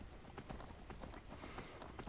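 Horse hooves clip-clopping in the video game Skyrim as the mount climbs steep mountain terrain, a steady stream of hoof beats heard faintly at a moderate distance.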